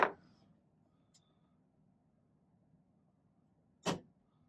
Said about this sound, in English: I'm going to put a little dimple right there with the center punch